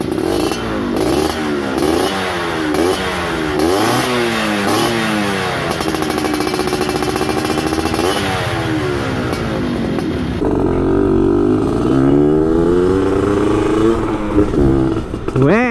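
A 2005 Yamaha F1ZR two-stroke motorcycle in original stock condition, revving repeatedly in rising and falling sweeps while riding along a roadside, loud and close throughout with a brief shift in tone partway.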